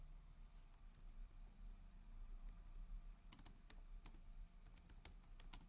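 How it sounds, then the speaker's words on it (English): Quick keystrokes on a computer keyboard while entering a command, soft patter at first and then a run of sharper, clustered clicks close to the mic in the second half. "So I type env."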